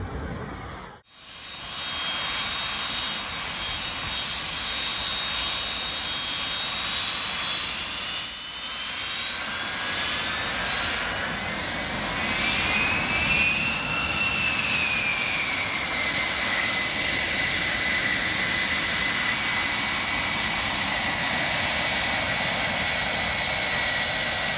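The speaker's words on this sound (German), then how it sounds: "ein weltweit bekanntes Kampfflugzeug mit dem niedlichen Namen Dragonfly" The Dragonfly, a light fighter aircraft, roars past with a loud jet-engine whine whose rising and falling pitch sweeps as it passes, sustained and fairly close after a brief silent start.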